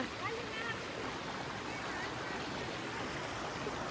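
A village river in Nepal flows over stones with a constant broadband rush of water. The sound is close and even while someone washes their feet in the stream, and people talk faintly underneath.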